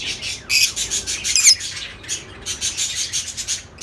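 A pair of Fischer's lovebirds calls from inside a breeding colony cage, giving bursts of shrill squawks and chirps that come close together in an uneven rhythm, loud and near, with no talking.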